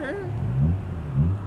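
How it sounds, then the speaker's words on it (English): A car engine revs somewhere nearby in two quick low surges, heard briefly after a voice. "we've got some yobbo revving"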